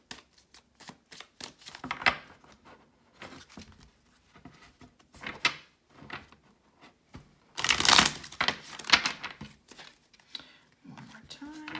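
Tarot cards are shuffled by hand in bursts of dry riffling and pattering, close up, with short pauses between, the loudest flurry near the middle.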